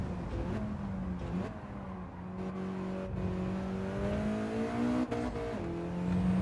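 A Mitsubishi Lancer Evo V engine in Gran Turismo 7 hums steadily, its pitch climbing through the gears with brief dips at each shift, heard alone at a moderate level throughout.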